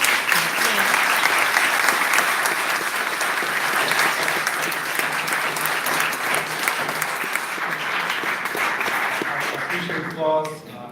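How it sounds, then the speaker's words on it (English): Sustained applause from an audience at a public hearing on gentrification, a dense, loud wash of clapping that holds steady and fades at the end as a voice starts to speak. "Applause."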